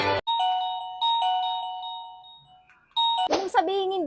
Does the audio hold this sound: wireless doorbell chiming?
yes